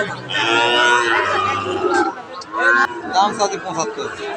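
A cow at the Aftabganj cattle market in Dinajpur lets out a long, loud, close moo, followed by shorter lowing sounds, with people talking and crowd chatter around it.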